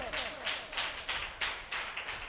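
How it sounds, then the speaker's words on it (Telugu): A church congregation applauding loudly during a sermon, with bursts of clapping that rise and fall in several rhythmic waves, close and full, with no talk over them. "కొట్టగట్టిగా చప్పట్లు"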